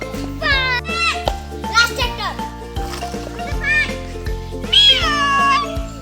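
A young child imitates a cat's meow with several rising and falling mewing calls over steady background music, loud and close.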